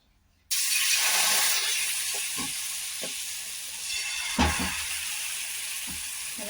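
A loud, steady sizzle starts abruptly and hisses on continuously as wheat flour batter hits a hot griddle, with a few faint clinks and scrapes underneath.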